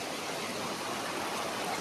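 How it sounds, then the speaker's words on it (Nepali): A river swollen after heavy rain rushes in a steady, broadband wash of flowing water, continuous and fairly close, with no voices over it. "यो खोला आज यतिको आएको थियो हेर्न सक्नुहुन्छ कति डिप छ"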